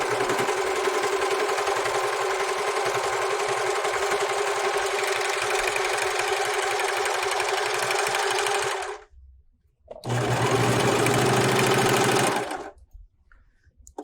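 Serger overlock machine stitching denim, a loud, steady buzzing drone for about nine seconds, a brief pause, then another short run before stopping.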